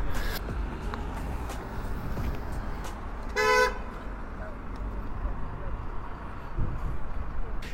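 A car horn honks at an urban intersection where a cyclist and a car narrowly avoid a collision, one short burst of toots standing out clearly over steady traffic noise.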